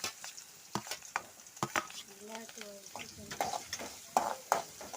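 Onions sauté in a pan for a kovakka pachadi, with a close, lively sizzle punctuated by repeated sharp scrapes and clacks of a spoon stirring them against the pan.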